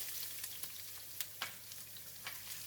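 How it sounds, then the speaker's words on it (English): Garlic and ginger fry in two tablespoons of hot cooking oil, a soft steady sizzle broken by several sharp spatters and light stirring clicks over a low hum. "We're going to fry garlic and ginger until it releases a nice fragrance."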